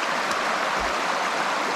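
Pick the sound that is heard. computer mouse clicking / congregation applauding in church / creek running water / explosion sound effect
creek running water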